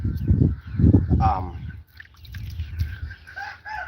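Chickens kept in a ground-level chicken tractor cluck and call close by, with a burst of calls early on and softer clucks later, while a person talks over part of it.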